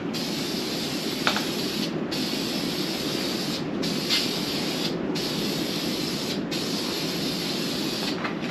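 Aerosol spray can of Duplicolor Metalcast Blue applied to valve covers for a 1977 Ford F150, a steady close hiss held in several long bursts separated by short breaks, no talking.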